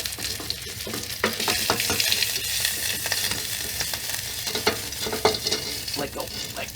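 A huge steak fries in a pan on a stove in an off-grid tiny cabin, giving a loud, dense, crackling sizzle that runs continuously, with scattered pops and faint knocks of handling.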